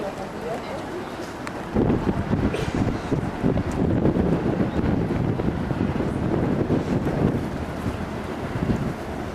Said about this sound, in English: We're on the river cruise.